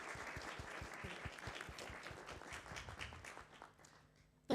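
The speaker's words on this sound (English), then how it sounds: "please a round of applause for them, for all the help." Audience at a quantum science careers event claps for its supporters, a sustained, moderately soft wash of many hands that thins out toward the end before a brief sharp bump.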